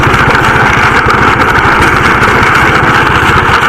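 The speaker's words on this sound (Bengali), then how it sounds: "বাইকের উপরে আমি আর অমিত, আমি চালাচ্ছি" A motorbike engine runs steadily as two riders cross a bridge over the Kangsabati river. The engine drones loudly and continuously up close with a rapid low pulsing throb, and no one speaks.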